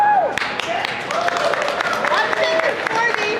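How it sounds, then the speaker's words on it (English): Sparse, scattered clapping rises from a convention panel audience, a thin patter of claps under a voice talking over it. "desultory applause for Devil's Reign"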